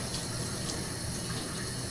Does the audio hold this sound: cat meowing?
no